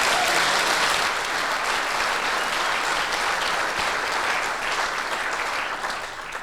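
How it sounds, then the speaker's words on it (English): Sustained applause from an audience at a 2023 opening session, dense and steady for the whole span, tapering slightly at the end. "let's have an applause for you."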